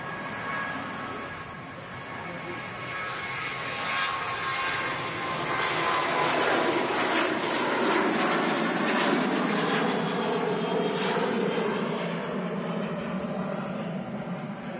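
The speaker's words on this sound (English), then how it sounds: "Here we go, the Ryanair with the retrofitted winglets." A Ryanair airliner fitted with retrofitted winglets departs Manchester Airport, its jet engines a broad, steady roar that builds to a louder peak midway and holds there without any talk.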